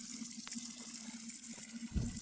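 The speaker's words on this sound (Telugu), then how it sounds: "ఇదిగోండి ఈ మొదల నుంచి వస్తూ ఉంటాయి నీళ్ళు" A gentle, continuous flow of spring water gurgling from the base of a jamun tree nearby, low and steady, with a faint thump near the end and no voices.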